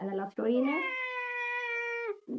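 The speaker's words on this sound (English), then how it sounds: "That's my cat." A house cat gives one long, drawn-out meow, close and clear, with a steady tone that falls slightly at the end, briefly framed by a person talking before and after.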